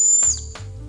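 A small turbo-shaped keychain spun to make a whistle, giving a thin high steady tone that fades, with brief low rumbling handling noise and no talk.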